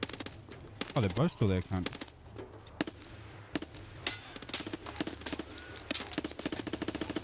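Gunfire crackles in Escape from Tarkov on a woodland map, with a rapid automatic burst early on followed by scattered sharp single shots and short volleys at varying distances, while players talk and swear over it.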